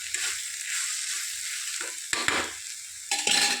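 Broad beans with green chillies sizzling and frying in a pan, a steady close hiss broken by a few scraping stirs, with no voices.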